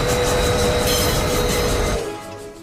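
Train running in a movie scene, a loud continuous rumble and rattle of wheels on rails with faint squeal, fading noticeably near the end.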